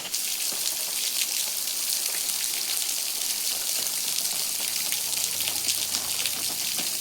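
Water falling outdoors in a rural field makes a dense, continuous patter and hiss of drops landing on surfaces, steady and fairly loud throughout, with no voices.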